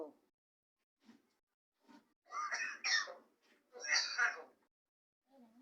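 A myna bird mimics a human cough: two raspy, harsh cough-like bursts in a quiet space, with softer short calls before and after.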